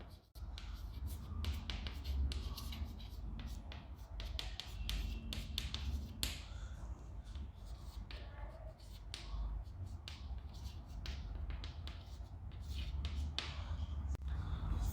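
Pen or chalk strokes tap and scratch in quick irregular bursts as an arithmetic progression is written out during a maths revision lesson, close and fairly clear, with faint low background noise.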